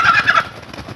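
A rooster on a farm clucks several times in quick succession while being weighed for sale, loud and close, then fades into quieter background noise.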